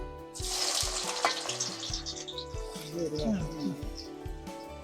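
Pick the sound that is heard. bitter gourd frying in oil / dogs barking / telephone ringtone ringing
bitter gourd frying in oil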